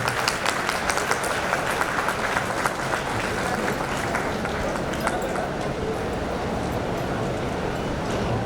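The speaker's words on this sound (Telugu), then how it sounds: "కొద్దిగా చప్పట్లు పెంచితే బాగుంటుంది." Audience applause at an award ceremony: a dense, continuous burst of many hands clapping, steady and fairly loud from start to finish.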